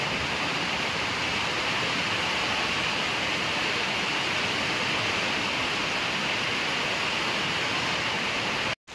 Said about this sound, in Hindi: मौसम खराब हो गया है, बहुत तेज बारिश आने लगी है